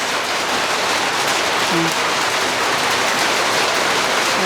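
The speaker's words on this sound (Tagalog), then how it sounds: "Naku, pumatak yung ulan, napakalakas." Steady, dense rain pours down heavily, a constant broadband hiss with no pauses.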